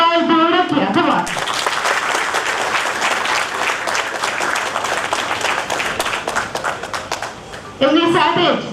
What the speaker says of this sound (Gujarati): સો તમારા બધા લોકોની જોરદાર તાળીઓ સીધી અને એકદમ એનર્જી વચ્ચે લેટ્સ વેલકમ હિયર